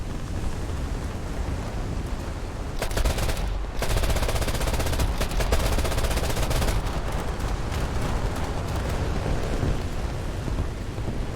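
Rapid aircraft machine-gun fire from the gunners in an air-combat video game set at Taranto, loud dense rattling bursts in long stretches over a constant engine roar, with no talk.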